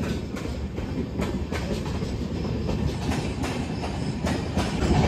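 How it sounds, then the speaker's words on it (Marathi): A train rolls past nearby with a steady rumbling roar and repeated clickety-clack of wheels over rail joints. "ट्रेन चालली"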